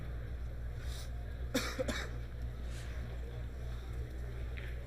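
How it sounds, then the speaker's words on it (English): Audience members coughing in a pool hall during a 10-ball world championship match, with a couple of short, fairly close coughs around the middle over a steady low hum. "you're hearing a lot of coughing going on out there"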